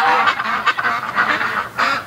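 A flock of pet ducks honking and quacking excitedly in a loud, continuous chorus, with several overlapping calls that rise and fall close by.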